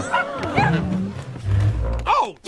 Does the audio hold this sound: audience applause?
no